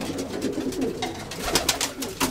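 Racing pigeons being fed in a loft coo in soft, repeated throaty calls, with scattered rustling and wing flutters close by and no talk.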